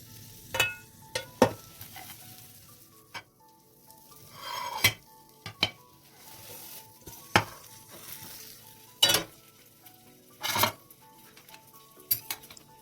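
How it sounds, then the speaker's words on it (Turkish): Börek fries in a pan with a quiet sizzle under scattered utensil scrapes, clinks and pan knocks at an irregular pace, close and fairly soft. "tekrar tavaya alarak pişirmeye devam edebilirsiniz"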